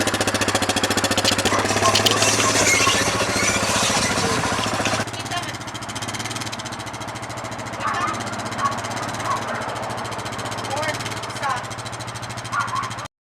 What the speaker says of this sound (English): it has its own engine, its own power, and you just flip a lever, it turns on the tiller